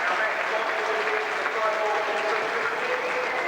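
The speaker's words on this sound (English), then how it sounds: "set to be an excellent evening for Bob, and a fair crowd has turned out to pay their respects to a very, very popular former Charlton player" Steady applause from a football crowd at a mid-1990s testimonial match between Charlton and Sheffield Wednesday, a dense, even wash of clapping that holds at constant loudness throughout, with faint voices mixed into the crowd.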